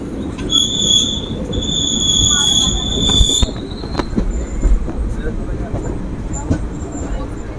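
The Howrah–Azimganj Kaviguru Express rumbles into a station with a high metallic wheel squeal early on, then settles into a lower rolling rumble with clanks, as if slowing.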